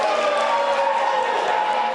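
Crowd noise from parents at a raucous Keller ISD school board meeting over adult-themed library books, a continuous loud rumble of voices with possible booing mixed in.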